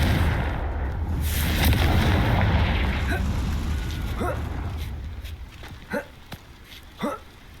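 A Confringo spell from Hogwarts Legacy bursts into a loud, rumbling explosion that rolls on for a few seconds, then thins into scattered sharp pops and cracks, with a voice briefly present.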